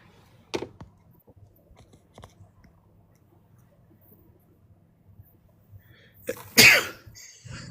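A single loud, sharp sneeze bursts out near the end of a quiet stretch, preceded by a faint click and soft rustling noises close by.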